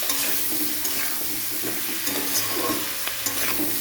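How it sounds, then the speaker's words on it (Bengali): Broad beans and prawns sauté in a pan for spinach chorchori, a steady close sizzle with frequent scraping stirs running throughout, no voices. "সিম চিংড়ি মাছ দিয়ে দিয়েছি, একটু কষিয়ে নেওয়ার পরে শাকটা দিয়ে দেবো"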